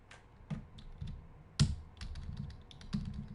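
Keystrokes on a computer keyboard, a quiet, close series of irregular clicks and taps with a sharper clack partway through, alone without talk.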